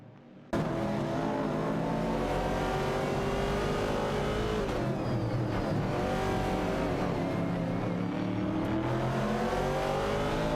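Race cars in an AI racing event roar loudly and continuously as they battle for position and overtake, engines revving and shifting with occasional tire squeal, with no voices.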